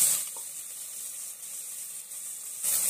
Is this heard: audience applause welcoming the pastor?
no